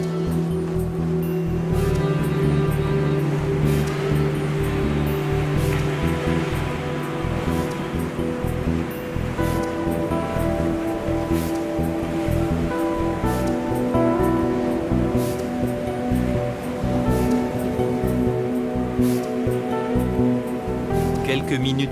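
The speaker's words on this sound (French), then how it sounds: "la mer a changé de visage. Les vagues se sont creusées." Ocean waves in a bay off New Zealand, a constant rushing surge of water with wind and an engine-like hum beneath, steady and loud throughout.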